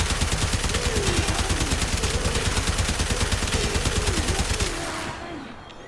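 Rapid repeated gunfire from the Fulmin's shotgun mode in the game Warframe, a loud fast stream of blasts over a wavering tone that cuts off near the end, leaving a quieter fading tail.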